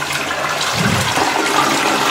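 A toilet flushes in a lavatory with a steady rushing of water and a low swirling surge in the middle, loud and close, with no talking.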